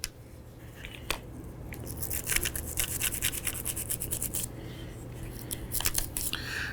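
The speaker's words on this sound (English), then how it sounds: "brush all these metallic parts that could possibly have carbon on them" A brush scrubs carbon off the metal parts and rail guides of an M&P Shield EZ .380 semi-automatic pistol, giving close, steady bristly strokes in quick rhythmic bursts.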